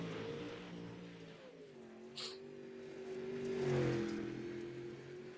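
A late model race car engine drones at a distance coming out of turn four on an oval track, a steady mid-pitched tone that swells slightly as the car draws nearer, with no talk.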